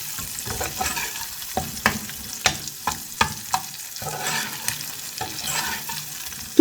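Dried loitta fish (Bombay duck) frying in a pan with a soft steady sizzle, broken by a series of sharp scraping stirs of a spatula at a fairly regular pace, close by and without talk.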